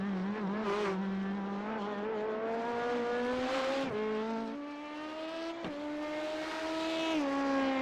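An onboard race car engine at Suzuka in the iRacing sim, loud and steady, revving hard through the gears with rising pitch and brief drops at each shift, close to the listener with no voices.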